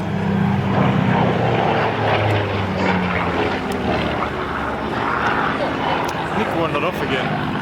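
A Mark 19 propeller aircraft flies at the Biggin Hill air show, its engine a steady, loud drone that holds across the whole stretch, with voices faintly mixed in.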